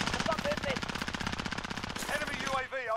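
Rapid bursts of gunfire from a Call of Duty Warzone match, sharp repeated shots in quick succession with a voice briefly talking over the end.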